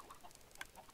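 Soft Minecraft chicken clucks scattered through a brief moment, with a sharper cluck near the middle over a quiet electronic background.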